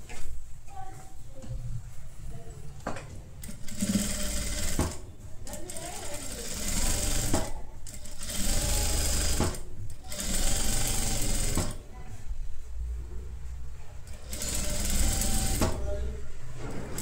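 A sewing machine stitches the lining edge of a halter neck blouse in several bursts of rapid mechanical chatter separated by short pauses, while someone talks quietly in between.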